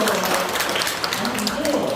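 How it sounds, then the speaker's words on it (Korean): Applause from an audience at a Korean product presentation on an oral stem cell supplement, a steady dense clatter of clapping running throughout with a voice speaking over it. "박수 한번 해드려요"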